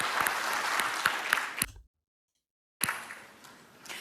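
An audience at the DICE Awards ceremony applauds in a dense burst of clapping that cuts off abruptly, then resumes more faintly after a moment of silence.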